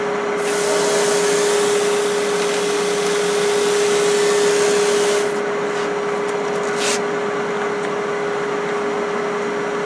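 A Hope Pro Sander works wood with 320 grit, giving a steady close whirring hiss with a constant high motor tone, and brief scratchy surges of abrasive contact toward the end.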